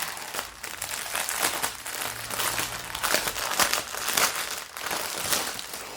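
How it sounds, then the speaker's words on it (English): Plastic and paper packaging of a diamond art kit crinkled and rustled while being unboxed, continuous close crackling with bursts of louder crumpling throughout and no voices. "So it's going to be rustling again, Pete, I'm afraid."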